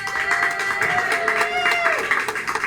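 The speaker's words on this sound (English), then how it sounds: "let's hear some applause." A game show studio audience claps and cheers for a contestant's drawing. The applause is steady and moderately loud, and a voice with a sustained pitched tone carries over it.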